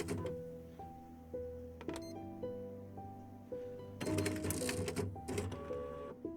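Office photocopier in a VRChat horror map running with a steady low mechanical drone, rising and falling tones and rhythmic clicks, then a louder burst of whirring and clattering feed noise toward the end.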